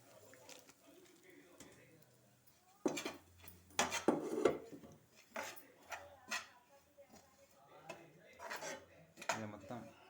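A spoon stirs dried coconut powder frying in ghee in a pan, giving quiet scraping and clinking strokes in uneven bursts, with a voice speaking faintly at times.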